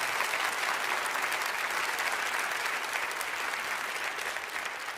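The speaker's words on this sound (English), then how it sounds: "Give these guys a round of applause." Steady, sustained audience applause at a church gathering, a dense crowd clapping evenly throughout at a strong, constant level.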